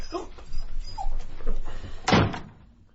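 Indoors in a radio drama, a dog whimpers in short high whines over low background noise, with a sharp thud like a door partway through and faint voices around it.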